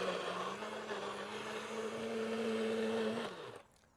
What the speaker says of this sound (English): we're going to let the blender do all the work. Literally, just give that a whiz, get it nice and smooth